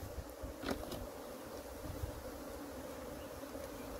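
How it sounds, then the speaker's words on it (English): A steady, dense buzz of many honey bees close by as they are bumped from a 7-frame box into a 10-frame brood box, continuous throughout, with a brief rustle or knock near the start. "now I'm going to bump these bees in"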